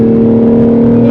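A BMW M2 G87 drives just ahead on a racetrack, giving a loud, close, steady engine drone with a strong, even hum throughout.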